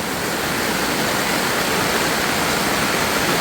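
Heavy rain pours down at night during a severe thunderstorm at a Louisiana campsite, a dense, unbroken roar of broadband noise, loud and close, with no voices.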